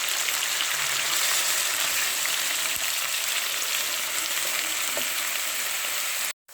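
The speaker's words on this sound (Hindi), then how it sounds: "अब हम इसमें डाल देंगे 2 बड़े साइज़ के हमने प्याज लिए, उनको बारीक चॉप कर लिए, उनको ब्राउन कर लेंगे।" Finely chopped onions fry in hot ghee, giving a loud, dense, continuous sizzle that fills the whole stretch before cutting off abruptly near the end, close up and without any voices.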